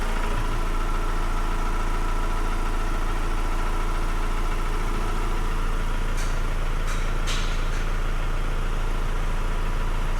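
A Ford Transit Custom van's engine idles steadily with a new overrun alternator pulley fitted after a charging fault, giving a constant close mechanical drone with a few faint clicks and no talking.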